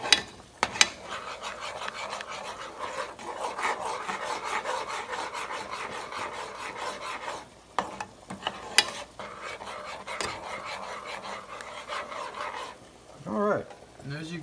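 Spoon stirring black pepper into a cauliflower mac and cheese sauce in a pot, a steady scraping, rasping motion close by that runs almost without pause, with a couple of brief knocks near the end.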